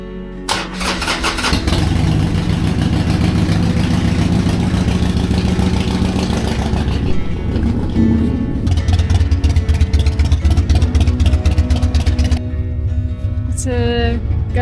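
A 2006 Harley-Davidson 1200 Custom motorcycle cranks and fires up, then revs loudly and steadily up close. The engine settles toward a rougher idle near the end, and a few lighter mechanical clicks follow.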